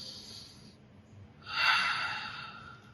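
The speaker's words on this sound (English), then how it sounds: "Take a deep breath" One slow, deep breath drawn in and let out, soft and close, with a quiet hiss of air rising and then easing off, alone with no talk over it.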